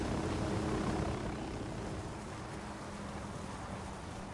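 A helicopter in Ghost Recon Wildlands gives a steady, loud rotor and engine roar that eases slightly and holds throughout, with no talking.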